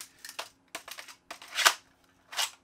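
Tungsten Katana magazine adapter snapping in and out of a toy blaster, a quick series of sharp plastic clicks and clacks, close and distinct against a quiet background.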